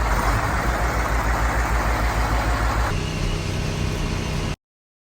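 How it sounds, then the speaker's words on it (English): A tractor of around 140 horsepower idles at a grain bin site, its steady low engine rumble close and continuous, easing slightly in pitch partway through before cutting off abruptly. "This tractor here, I think it's around, I'm wanting to say around 140 horse."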